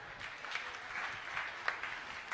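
A church congregation applauds, a faint, continuous patter of many hands clapping at a distance, steady for a couple of seconds with a few sharper claps standing out.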